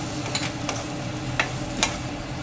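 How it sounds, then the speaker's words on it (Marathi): Sliced potatoes with spices are being sautéed in hot oil, giving a steady close sizzle. A few light scrapes of a spatula stirring in the pan sound over it. "जे बटाटा मी सोलून कापून ठेवलेला होता ते घातलेला आहे, त्याला पण असं परतून घेत आहे"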